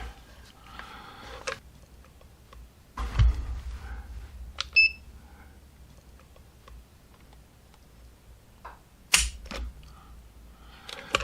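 Sparse sharp mechanical clicks and snaps come from a Canik Rival-S steel frame pistol as its trigger is pulled with a trigger weight gauge, spaced a few seconds apart with quiet gaps and soft handling noise between.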